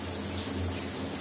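Shower water runs steadily, a dense even hiss of spray filling the short stretch with no breaks or voices.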